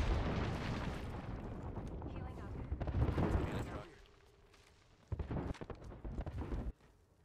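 Video game gunfire and explosive booms from a Bangalore match, a dense rumbling barrage that fades out, then sharp bursts of shots return, with talk over it.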